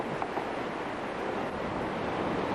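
The flooded River Odra in full spate, a steady roaring rush of raging water tearing at its banks, with wind buffeting across the microphone and no voices.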